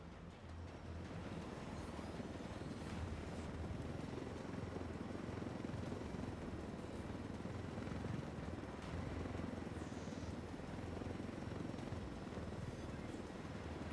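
A helicopter flies in Ghost Recon Wildlands, a steady low rotor thrum and engine roar that holds unbroken from start to finish, heard alone at a constant level.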